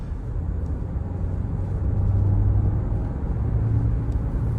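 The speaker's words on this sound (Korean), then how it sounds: "확실히 스포츠 모드로 좀 바꾸니까 조금 이제 그릉그릉 하면서 치고 나가는 느낌이 조금 다릅니다" A Hyundai Santa Fe hybrid with a 1.6 engine accelerates in sport mode, a low, steady engine rumble that swells slightly midway, heard from inside the cabin with no talking.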